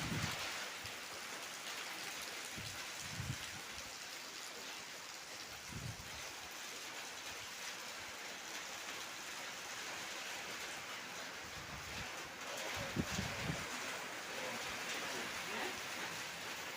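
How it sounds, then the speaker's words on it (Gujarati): First monsoon rain falling in Gujarat, a soft steady patter of drops under a wide outdoor hiss, with faint low rumbles of distant thunder now and then. "છાંટા શરૂ થઈ ગયા છે હવે ધીમે ધીમે."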